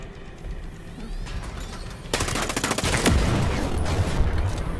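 Gunfire in Ghost Recon Breakpoint as a target is shot down: a low rumbling backdrop gives way to loud rapid bursts of automatic fire that continue to the end, with no talk.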